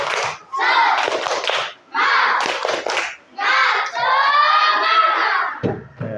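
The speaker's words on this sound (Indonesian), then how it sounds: "coba tepuk semangat" Schoolchildren in a classroom perform a rhythmic spirit clap in short loud bursts, with their voices chanting and shouting along between the clapping groups.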